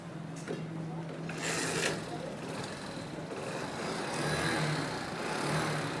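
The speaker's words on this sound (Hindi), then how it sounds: "अब मैं इसको इंजन पे स्टार्ट करता हूँ।" A Honda Pridor hybrid-converted petrol motorcycle engine starts and runs, giving a steady low idle that fills the clip at moderate, even loudness, with someone talking over it.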